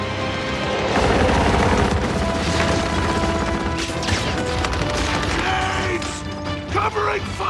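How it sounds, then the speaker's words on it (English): Gears 5 video game combat, with grenade explosions and gunfire booming and crashing loudly amid dense game sound, while in-game voices call out. "Grenades!"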